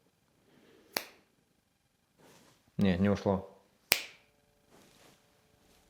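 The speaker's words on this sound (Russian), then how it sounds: "сейчас щелчком пальца за 3 секунды все уберу" Two crisp finger snaps ring out about three seconds apart, with someone speaking briefly between them in an otherwise quiet room during home renovation work.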